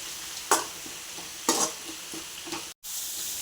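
Chopped small onions frying in homemade ghee, a soft low sizzle with a few sharp stirring scrapes and a short dropout near the end.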